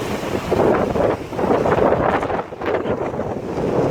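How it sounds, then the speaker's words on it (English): Strong gusts of high wind in Green Valley, Arizona, roar and buffet the microphone in loud, surging waves with brief lulls between them, no voices present. "Here comes another gust."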